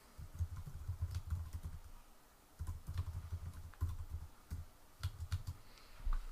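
Close computer keyboard typing in quick bursts of clattering keystrokes, separated by short pauses, at moderate volume with no talking.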